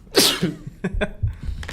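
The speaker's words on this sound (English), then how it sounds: "Sorry, I'm just sneezing." A sharp, loud sneeze bursts out near the start, trailed by a few softer sniffs and small breathy sounds close to the microphone.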